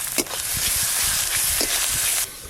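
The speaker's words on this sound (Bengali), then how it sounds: "এবার পেঁয়াজ আদা আর কাঁচা লঙ্কা বাটা একসঙ্গে একটু ভালো করে কষে নেব।" A paste of onion, ginger and green chili fries in a pan with a steady, loud sizzle and hiss, broken by a few sharp scraping stirs, until it cuts off near the end.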